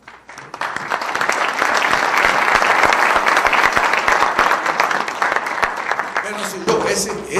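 Audience applause at a book presentation, a dense steady wash of clapping that starts abruptly and sustains for several seconds before thinning out near the end.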